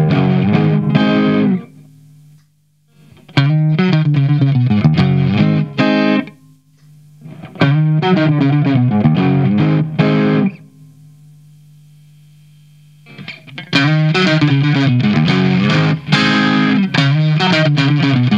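Electric guitar played through a Boss DS-1 distortion pedal with the distortion set low, giving a lightly driven tone; several strummed phrases separated by pauses, with a steady low mains hum in the gaps.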